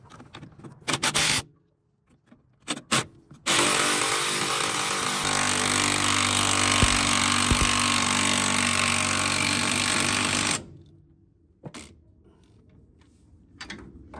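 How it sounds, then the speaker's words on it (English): Impact wrench tightening front brake caliper bracket bolts during a Brembo six-piston upgrade, a loud rattling burst lasting several seconds between clanks and handling noises of tools and parts. "Anytime I use an impact to put on bolts, I always like to check them by hand just in case."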